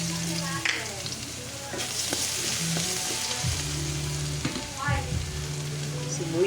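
Garlic sautés in a pan for Bicol express with a loud, steady close sizzle and occasional stirring scrapes, while a low tonal hum runs beneath it.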